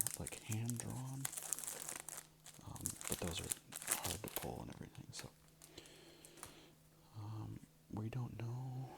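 A Topps Gallery Art of Collecting baseball card pack wrapper being crinkled and torn open up close, with bursts of crackling foil under soft, quiet speech.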